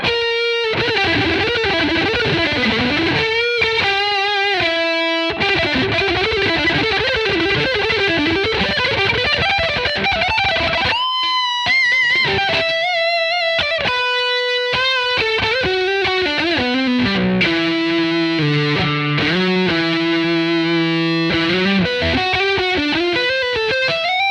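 Distorted electric guitar on an ESP LTD EC-10's middle pickup position plays riffs and sustained notes alone, with a gritty, saturated tone and some choppy, stuttering passages, loud and close throughout.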